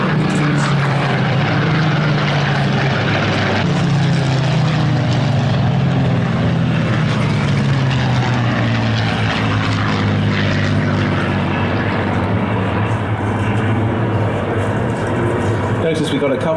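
A clipped-wing Spitfire with a Merlin engine, among several at the Flying Legends air show in July 2015, makes a loud, sustained propeller-engine roar passing from the left, the pitch sweeping down as it goes by, with people talking over it.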